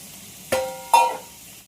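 Paneer pieces frying in a pan over an induction cooktop, with two sharp sizzling bursts as pieces hit the hot oil, each fading into a softer hiss, close and without talk.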